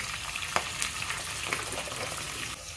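Green chilies frying in a hot pan for a curry served with poori, a steady close sizzle and crackle with a few sharper pops, no talking.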